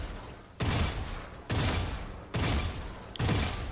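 Bursts of gunfire in Valorant shooting practice bots, four loud, dense volleys in a row, each starting sharply and trailing off, with no talk.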